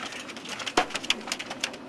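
Pigeons coo softly amid a busy background of fluttering and scattered clicks, with a few sharper calls standing out.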